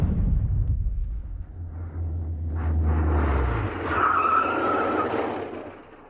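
A car's tires skid and squeal as it brakes hard to a stop, a loud rumbling slide followed by a high screech that fades out, with no talking.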